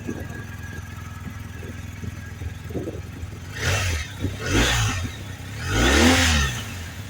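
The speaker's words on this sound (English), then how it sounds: "we'll take a listen to the revs here" A 2023 BMW R1250GS motorcycle idles with a low rumble, then its engine is revved three times, each burst rising and falling, the last one longest and loudest.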